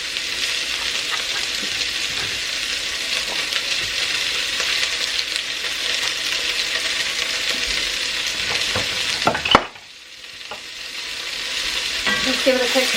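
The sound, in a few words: carrots, potatoes and celery being stirred in a hot pot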